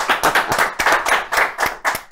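A studio audience claps loudly for actor Fernando Colunga on a television talk show, a close, steady burst of many hands with a brisk, uneven rhythm and no voices over it.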